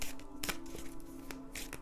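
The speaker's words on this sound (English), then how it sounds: "And I'm going to shuffle the Soul's Journey lesson card." A deck of lesson cards for a divination reading being shuffled, soft papery riffles and flicks in short bursts, close and quiet, with no talking.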